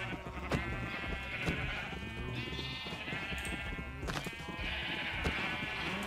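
Sheep in the Minecraft video game bleat over and over, several overlapping wavering calls close and loud, alongside clicks and soft thumps of game activity, with no talk.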